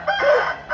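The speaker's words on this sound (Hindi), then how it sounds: "ये देखें दोस्तों ये वाला मुर्गा है" An Aseel rooster, held close, gives a brief loud throaty cluck-crow lasting under a second.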